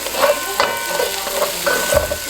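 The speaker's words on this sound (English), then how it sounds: "So now you just want to take all of this and put it into the pot with the oil." Onions fry in hot oil in a pot, making a close, steady sizzle broken by several short scraping stirs and clinks over a couple of seconds, with no speech.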